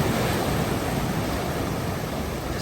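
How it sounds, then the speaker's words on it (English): A waterfall pours with a steady, broadband roar of rushing water, even and continuous throughout, heard alone without any talking. "Like Disneyland waterfalls, guys."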